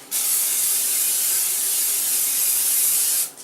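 A steady hissing spray of cooking oil from an aerosol can onto a pizza pan runs for about three seconds, then cuts off abruptly.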